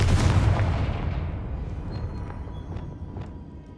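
A Confringo spell blast in Hogwarts Legacy hits hard at once, then fades over several seconds into a thinning rumble, with a few faint sharp ticks trailing behind.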